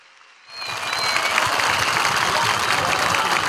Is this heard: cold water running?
no